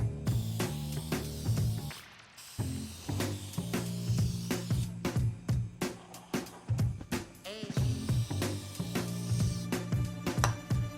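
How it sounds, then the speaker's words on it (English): Repeated short hissing bursts of an aerosol spray of oil onto a Harley-Davidson air filter, close by, in quick irregular sprays with brief pauses, over a low steady hum. "Notice how I'm overspraying before I start spraying the filter?"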